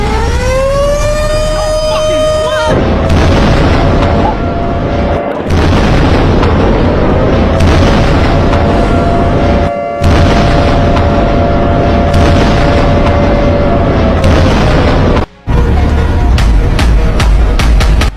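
Deep missile explosion booms and bursts crash over a wailing air-raid siren that rises and holds, with continuous loud rumbling noise throughout.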